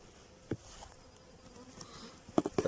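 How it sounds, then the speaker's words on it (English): Honey bees hum around an open hive, a faint buzzing bed broken by a few sharp close knocks and handling clicks, the busiest near the end. "if she's got that many bees in there"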